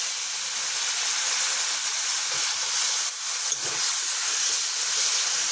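Masala in a hot pan hisses and sizzles loudly after a splash of water is added, a constant, close, steamy crackle that holds steady throughout.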